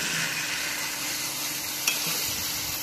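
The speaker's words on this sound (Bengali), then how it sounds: "মাংস যত ভালো কষা হবে তত খেতে ভালো লাগবে। খুব সুন্দরভাবে মাংস কষতে হবে।" Chicken pieces are fried and stirred in a pan for chicken biryani, a dense, steady sizzle close by with one sharp utensil clink partway through.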